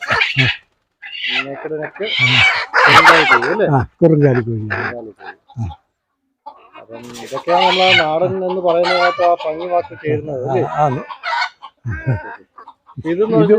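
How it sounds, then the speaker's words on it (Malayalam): A short-legged native hen clucks and squawks loudly up close in repeated bursts, with a crowing-like call mixed in and short pauses between outbursts. "കുറുങ്കാലി കോഴി"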